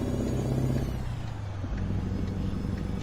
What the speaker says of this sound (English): I like the sound of this truck, like I previously stated.